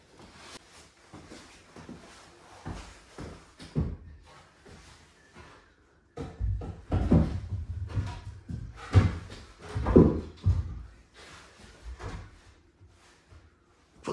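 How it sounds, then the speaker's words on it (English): Wooden door frame being fitted into place for a utility room door lining, with scattered knocks, bumps and wooden clunks, quiet at first then louder, harder thuds in the second half. "Put the door frame in place."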